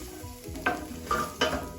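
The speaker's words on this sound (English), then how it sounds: "Let's drop that garlic in there." Garlic dropped into a hot pan for a spicy plant-based penne Alfredo, sizzling and frying with a few quick stirring scrapes, close and clear with no talking.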